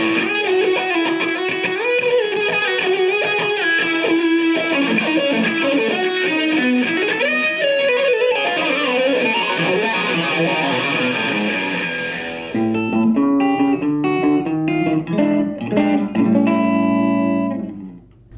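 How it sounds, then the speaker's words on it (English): Heavily distorted electric guitar through a VOX AC4TV amp with Big Bad Wah, Saturator Distortion and Time Machine Delay pedals plays a sustained, sweeping riff with wah-like tonal shifts and echoing repeats, then breaks into choppier notes. "I'm using the Big Bad Wah, the Saturator Distortion,"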